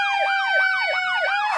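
An ambulance siren wails in a fast repeating up-and-down yelp, about four cycles, loud and close, heard alone without talk.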